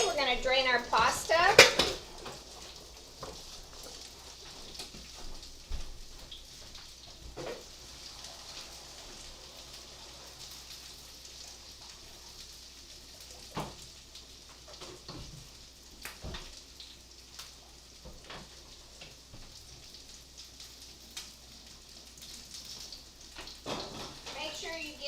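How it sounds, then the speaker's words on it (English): Cooked spaghetti being drained in a pasta kettle in a home kitchen: a clatter of metal pot and lid, then a steady soft hiss of running water with scattered clinks, while someone talks. "we're going to drain our pasta."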